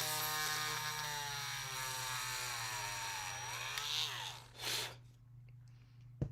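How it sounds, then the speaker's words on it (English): A power drill bores straight down into a hole, its motor whining steadily and close, then slowing and cutting off into quiet. "So we're going to go ahead and drill straight down on this hole"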